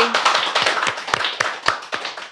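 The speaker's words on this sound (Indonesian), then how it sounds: "sekali lagi tepuk tangan teman-teman" A small audience at a rooftop talk claps for a guest, a brisk run of distinct, close hand claps from a modest group, loud and crisp with no talking.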